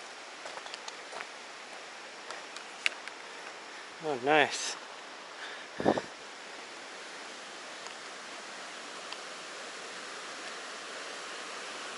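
Steady broadband rush of the Chattooga River flowing nearby, constant and fairly loud, with a brief voice speaking over it partway through.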